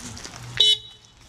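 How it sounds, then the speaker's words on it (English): A Can-Am Ryker three-wheeled motorcycle's horn gives one short, bright beep of roughly a sixth of a second, loud and close against quiet outdoor background. "I'm gonna honk the horn."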